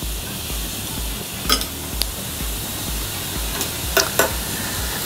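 Four big slabs of slightly smoked bacon frying in a pan for an Uruguayan chivito steak sandwich, a steady close sizzle with a few sharp pops and spatters.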